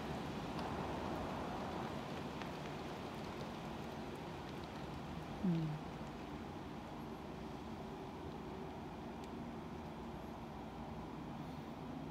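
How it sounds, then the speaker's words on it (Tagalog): Heavy rain falling with no wind in Hong Kong, a steady, even hiss of rainfall that persists throughout, mixed with distant traffic rumble. "Malakas lang ang ulan pero walang hangin."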